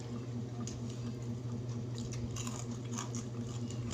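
Crunchy fried chicken is being eaten at close range, with rapid crunching bites and chewing over a low background hum, steady through the short stretch.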